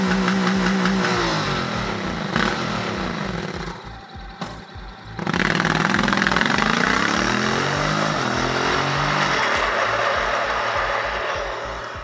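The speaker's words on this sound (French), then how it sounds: "il a une sonorité en fait qui le rapproche d'un bicylindre en V" A Honda Forza 750 scooter's 745 cc 270-degree parallel-twin engine runs close by with a throbbing, V-twin-like beat, dips briefly as the throttle eases, then revs back up and holds a strong, even drone.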